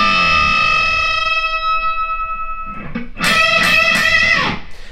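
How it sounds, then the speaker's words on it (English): An electric guitar lick played through effects with distortion and echo bends a B-string note up toward the pitch of the high E, giving a wavering, droning tone before a louder, brighter burst of repeated notes. "I'm going to bend that D, 15, up to the exact same pitch of the high E"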